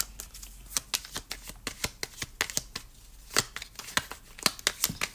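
Tarot cards being shuffled by hand for a reading, a close, crisp run of riffling and slapping card sounds in quick irregular bursts, with no voice over them.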